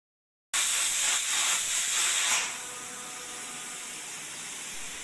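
A pressure cooker holding bilimbi with salt and water releases steam with a loud, close hiss that starts suddenly, then settles into a quieter, steady hiss.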